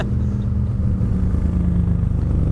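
A Harley motorcycle's big engine idles loud and close with a deep, steady, low rumble that holds even and unbroken throughout.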